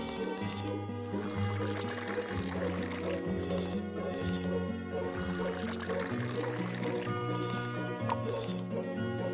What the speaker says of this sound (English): Pour the slush into each container.